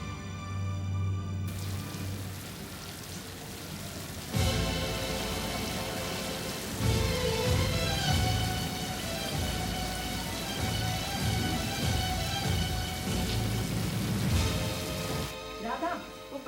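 Steady rain falls in a continuous dense hiss, loud and close, through a dramatic television scene, with brief shifts in the background and people speaking faintly at times.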